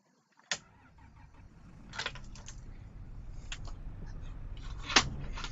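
A spare tractor in the Farming Simulator 2025 video game: a sharp click, then a low engine rumble that builds and runs steadily, with a few mechanical clicks and clunks along the way.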